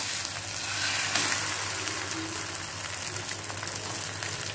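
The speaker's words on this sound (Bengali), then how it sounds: "আর এইখানে হচ্ছে ছেলের জন্য ডিম ভাজছি।" An egg frying in a pan gives a continuous, fairly close crackling sizzle with faint background noise, no talking.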